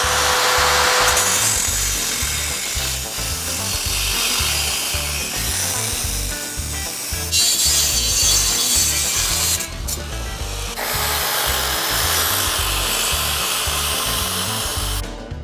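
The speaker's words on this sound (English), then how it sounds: "So I get to use the grinder one more time" Angle grinder cutting down a steel motorcycle fender for a bobber build, a loud continuous abrasive whine and rasp running steadily throughout with slight shifts in pitch as the disc bites.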